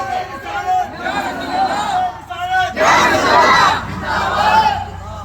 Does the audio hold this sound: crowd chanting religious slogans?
yes